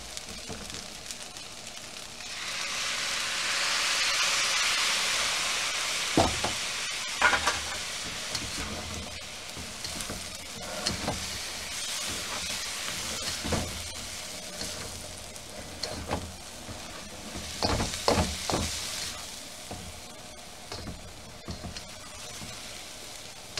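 Chicken fried rice sizzles in a wok as soy sauce goes in, a loud steady frying hiss with repeated scraping and stirring clatters throughout, with no voices.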